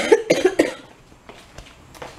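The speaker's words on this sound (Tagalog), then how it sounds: "yung ubo ko masakit na" A sick woman coughs three times in quick succession, close and loud, followed by quieter breaths and faint clicks.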